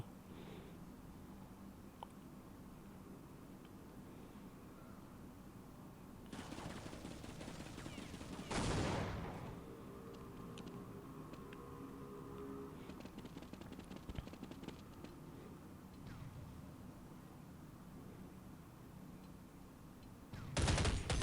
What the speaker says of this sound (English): Element with the SMG on E.